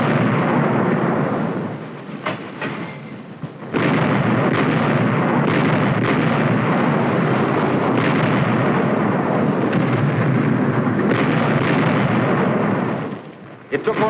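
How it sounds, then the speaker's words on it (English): A World War II artillery barrage at Kwajalein booms out in loud, dense, rumbling blasts that run almost unbroken, with a short lull in the middle, from old wartime film footage. "We landed artillery on the 2 small islands on either side and blasted at close range."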